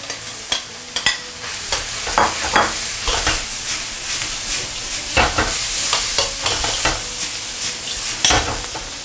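Lamb stir-frying in a wok with wood ear and celtuce strips, loud steady sizzle broken by repeated scraping stirs and spatula knocks throughout.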